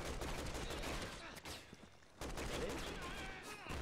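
Resident Evil 6 gunfire: dense, rapid bursts of shots crackle through the game's combat noise, pausing briefly midway before another volley resumes.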